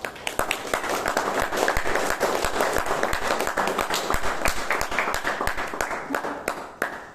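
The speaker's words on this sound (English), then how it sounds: "clap for yourselves" A Toastmasters meeting audience in Bangalore claps together, a dense, steady patter of many hands sustained evenly throughout at moderate volume.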